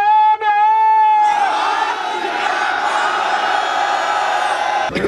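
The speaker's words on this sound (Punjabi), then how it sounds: "ਗੁਰੂ ਗੋਬਿੰਦ ਸਿੰਘ ਜੀ ਮਹਾਰਾਜ ਦਾ ਜੈਕਾਰਾ" A Sikh jaikara for Guru Gobind Singh at the Tikri border protest: a single voice calls out a long sustained line, then a large crowd answers with a loud, massed roaring shout lasting several seconds before cutting off.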